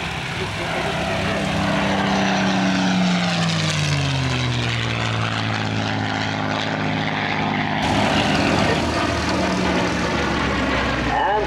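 Propeller aircraft passing overhead at an airshow, a loud sustained engine drone whose pitch sweeps down as it goes by, with a voice talking over it.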